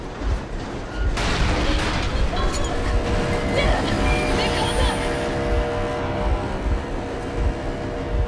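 A train locomotive in the video game Metro Exodus runs with a heavy rolling rumble and metallic clatter, starting after a sharp onset and continuing steadily, loud and close.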